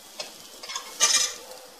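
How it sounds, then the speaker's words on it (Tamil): Foxtail millet stirred and dry-roasted in a pan gives a few short, soft scraping and rattling strokes, the loudest around the middle, over a quiet background. "அளவான சூட்டில் நல்ல கோல்டன் கலரில் நம்ம வறுத்து எடுத்துடலாம்."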